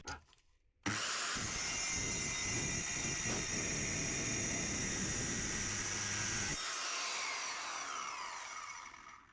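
A power saw cuts through a length of steel rebar for a handmade fire poker, a loud, steady grinding rasp starting abruptly and running several seconds before cutting off and fading away.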